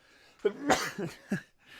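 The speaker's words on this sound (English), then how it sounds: "Sneezing on camera." A single close sneeze with a sharp burst, preceded by a quick inhale and followed by a short breathy aftersound.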